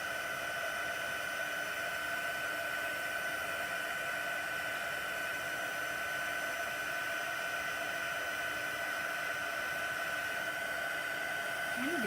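A heat tool or dryer blows on freshly stamped ink, a loud, unbroken whooshing roar with a steady whine running the whole time, close and constant without pauses.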